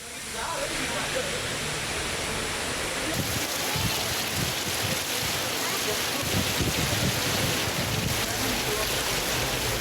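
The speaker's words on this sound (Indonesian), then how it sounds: "Hujan deras disertai angin kencang dan petir melanda seluruh wilayah di Kabupaten Maros" Heavy rain with hail driven by strong wind in Maros Regency, South Sulawesi, a dense, steady roar of downpour and gusts filling the whole stretch, loud and close, with low wind rumbles surging through the middle.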